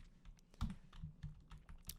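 Clicky computer keyboard typing, a quick irregular series of soft key taps with one heavier thump, close and fairly quiet with no voices.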